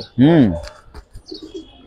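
A single loud, rolling coo from flying pigeons of the Giribaz, silver and grizzle kind rises up close, then trails off into soft rustles and faint murmurs.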